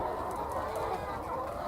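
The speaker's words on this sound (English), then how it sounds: "So this is our chickens." Chickens on an organic farm clucking steadily in a low, continuous murmur of fowl sounds, with a crow or two faintly in the background.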